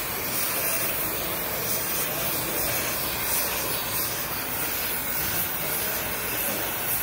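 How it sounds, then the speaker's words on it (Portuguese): Black spray paint hisses out of an aerosol can during maintenance on a Caterpillar 120K motor grader, a loud, unbroken spray lasting about seven seconds. "Vou arranjar uma tinta spray"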